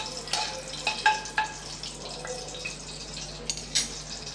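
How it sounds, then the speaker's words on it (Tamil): Whole spices (fennel seeds, cinnamon, bay leaves and star anise) fry in hot oil for a meal maker gravy, a faint steady sizzle with scattered soft crackles and pops, close and without talking. "கொஞ்சம் பொரிய விட்டுறலாம்."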